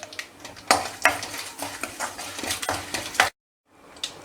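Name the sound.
tempering spices and curry leaves frying in hot oil in kadai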